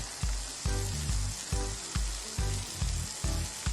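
Ackee fries in a pan while being stirred, a steady sizzle broken by a regular series of low thumping scrapes from the utensil, close and moderate in level, with no talk.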